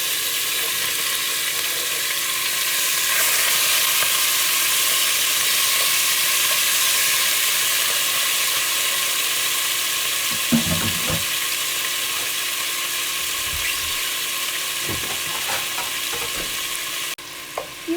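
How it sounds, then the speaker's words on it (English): Loud, steady sizzling and frying hiss of beef browning in a hot pan fills the whole stretch, with a few brief clanks and scrapes of stirring. "listen to it sizzle."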